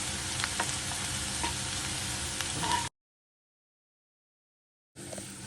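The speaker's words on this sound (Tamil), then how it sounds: "பூண்டு இந்த அளவுக்கு நல்லா வெங்காயம் மாதிரியே நல்லா ப்ரௌனிஸாக வறுத்து எடுத்துக்கலாம்" Garlic fries in a hot pan, browning with a steady dense sizzle and crackle. The sizzle cuts to silence for about two seconds, then resumes.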